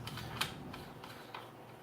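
A metal knob threaded back onto the bolt of a steel canoe and kayak cart, giving a few faint, scattered clicks and light scrapes close by in a quiet space.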